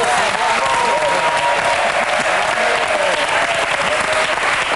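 A TV studio audience applauds, loud, dense and continuous clapping filling the whole stretch without a break.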